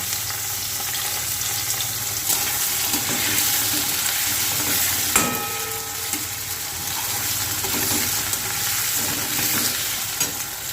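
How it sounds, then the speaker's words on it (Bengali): Chitui snails fry in a pan with potato and onion, a continuous moderately loud sizzle with occasional stirring scrapes and a sharp clink midway. "চিতুইটা গুগলিটা দিয়ে ভালো করে ভেজে নেব তারপর দেব আলু পেঁয়াজের সাথে চিতুইটা ভালো করে ভাজবো"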